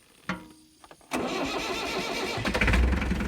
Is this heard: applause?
no